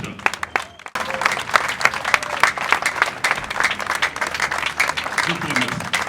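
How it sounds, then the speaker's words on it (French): A funeral crowd gathered in Kinshasa applauds a late artist, and the sustained clapping swells after a brief lull and carries on steadily, dense and close, with some voices mixed in. "que nous nous lévions pour applaudir l'artiste qui s'en va, pour dire bravo l'artiste"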